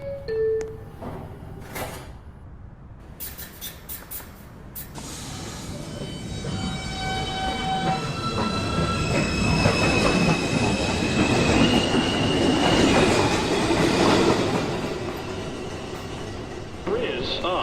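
A Manhattan-bound 2 train on the New York City subway pulls out of Beverly Road station at evening rush hour, its wheels squealing and rumbling as it picks up speed, swelling loud and then fading.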